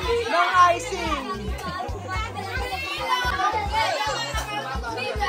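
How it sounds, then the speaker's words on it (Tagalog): A large crowd of children plays noisily, their shrieks and chatter continuous and loud throughout, close by amid the bustle of an event where icing is being put on cakes. "Ang daming mga bata. Maingay lang, pero masaya."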